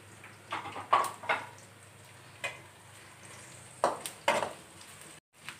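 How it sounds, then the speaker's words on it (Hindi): Chopped onions frying in a pan for aloo pulao, a quiet steady sizzle broken by several short louder bursts of stirring and clatter, with no talk. "प्याज बिच पा के घेर गोल्डन ब्राउन करा"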